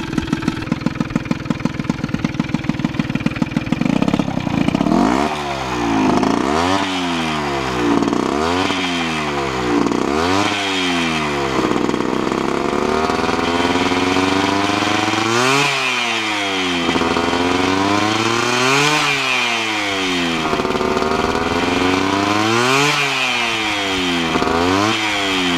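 A Piaggio Ciao moped with a newly tuned E8 engine runs on a hot day, starting at a buzzing idle, then repeatedly revving up and dropping back in loud, rising and falling two-stroke whines, with no voices.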